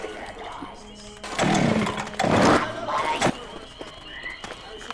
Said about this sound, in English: Give me the chainsaw.